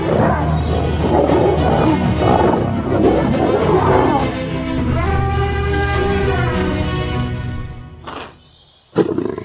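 Young male lion roaring on the Serengeti savanna: loud, deep, sustained roars with a rough, grunting texture, close and continuous for most of the stretch, then a brief pause before a sharp closing burst.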